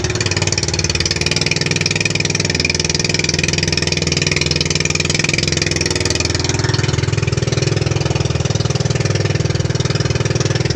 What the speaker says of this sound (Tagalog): At hinila ko si Idol Joshua dahil nasira po ang kanyang makina.